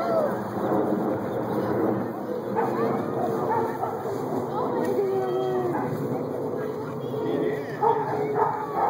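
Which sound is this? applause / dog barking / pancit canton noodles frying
dog barking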